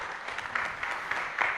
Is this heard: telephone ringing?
no